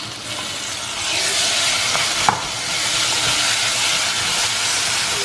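Carrots and masala sautéing in a pan, a broad steady sizzle close by with one sharp utensil tap partway through.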